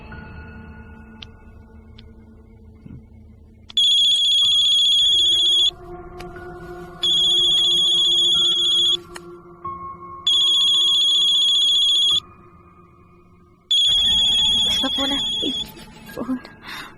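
A mobile phone rings in a tense horror-film scene, four loud bursts of electronic ringtone separated by short gaps, with a low background hum and faint movement between rings.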